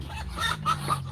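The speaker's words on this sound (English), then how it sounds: "chickens are quite noisy." Several chickens cluck in short, close bursts over a low background hum, about three quick calls in a second.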